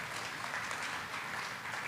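A business mixer crowd in Nigeria clapping for a speaker, a soft, distant wash of applause holding steady throughout.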